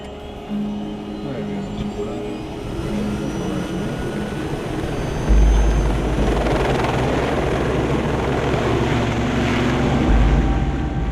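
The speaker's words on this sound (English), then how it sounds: "Perdido is a very long flight for a helicopter" Helicopter on a long flight out to a deep-water offshore oil platform in the Gulf, a loud continuous rotor drone and engine roar with a steady low thrum that strengthens partway through, heard from inside the cabin.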